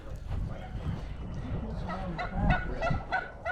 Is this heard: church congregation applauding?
no